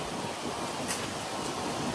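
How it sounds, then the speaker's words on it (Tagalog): Steady, loud broadband roar of strong wind at Patapat Bridge, Pagudpud, buffeting the microphone, constant throughout with slight gusts, no voices. "Pero hanggang ngayon tingnan lakas ng hangin"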